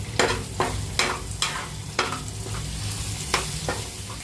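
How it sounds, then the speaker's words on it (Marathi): Whole spices fry in oil with ginger-garlic paste for sukka chicken, a close, steady sizzle punctuated by regular sharp scrapes of a spoon stirring the pan, about eight strokes, with no talking. "आलं लसूण पेस्ट तेलामध्ये फ्राय करून झालेली आहे त्याच्यामध्ये आपण टाकणार आहेत खडे मसाले खडे मसाले सुद्धा फ्राय करायचे"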